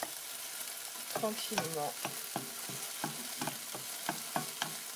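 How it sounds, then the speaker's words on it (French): Chicken curry cooking on low heat in a pot, a soft steady sizzle broken by a series of light spoon taps and stirring knocks, with a brief spoken word near the start. "il faut laisser mijoter, donc à feu doux"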